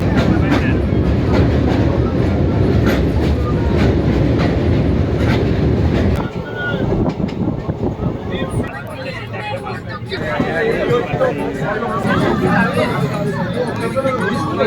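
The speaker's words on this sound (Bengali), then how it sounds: "আমরা এখন হুগলি ব্রিজের উপর দিয়ে অতিক্রম করছে আমাদের ট্রেন।" The 13187 Maa Tara Express rumbles across the Hooghly bridge, heard from on board as a loud, steady rolling clatter that shifts in tone partway through, with passenger chatter in the carriage.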